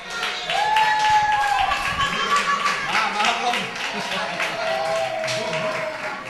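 Clapping for a young player at a youth football team's season-closing ceremony, a crowd applauding in uneven bursts with distinct hand claps audible, while voices talk and call out over it.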